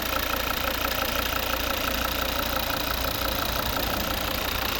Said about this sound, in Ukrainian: Класно працює двигун, рівненько, тихо.